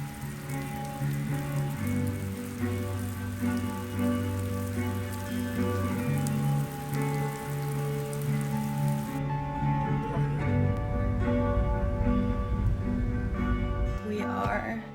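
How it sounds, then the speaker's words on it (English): Heavy rain pours down steadily on surfaces, a dense continuous patter mixed with background music, louder toward the end. "it's pouring right now and I kind of want to go out into the rain"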